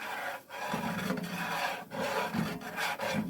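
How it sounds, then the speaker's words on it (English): Utensil scraping the bottom of a pan where flour is cooking in grease for gravy, a steady close rasping scrape with brief pauses, no talk. "I'm kind of scraping the bottom of the pan to get all that fond off the bottom"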